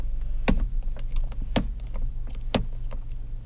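Three sharp mechanical clicks about a second apart, each with a brief whir, over a steady low engine hum: an electric parking brake engaging inside a car.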